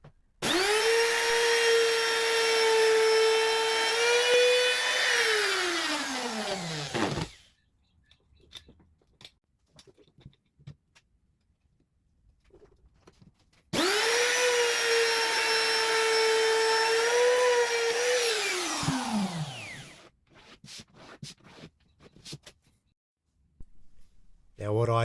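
Router cutting along a timber edge guided by a jig for a slot car track, two loud sustained high whines of several seconds each, pitch dropping as the motor winds down, separated by quiet handling noises.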